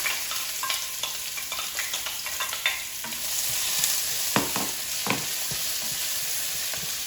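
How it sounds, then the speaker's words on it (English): Thinly sliced onions sizzle and fry in a hot pot while being stirred, giving a steady crackling hiss with scattered sharper pops, close up and with no talking. "So I'm going to put that in the pot and hear it sizzle"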